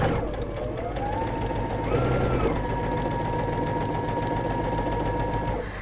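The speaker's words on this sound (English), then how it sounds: "Then I'll sew across and come out of the middle of this V on this side" Sewing machine stitching across quilt fabric strips, a steady close mechanical whir with rapid needle chatter and a rising motor tone, running continuously without pause.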